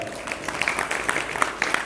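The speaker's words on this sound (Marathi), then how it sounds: "ते एकदा जोरदार टाळ्या" Steady applause from an audience at a devotional gathering for Ram devotees, a dense patter of many hands clapping continuously for about two seconds, moderately loud with no distinct voices over it.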